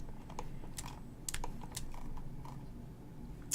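Scattered keys tapped on a computer keyboard during 3D modeling work, a few sharp close clicks at irregular intervals against a quiet room.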